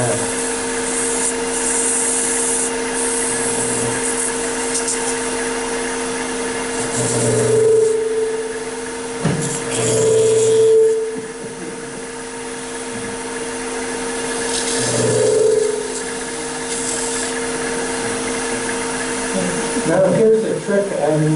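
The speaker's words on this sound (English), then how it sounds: "the groove lifts the grain around it a bit, so I'm going to hit it with some more 400 grit sand here" Wood is sanded by hand with 400 grit sandpaper, steady close rubbing strokes under a constant background hum, with someone talking over it at intervals.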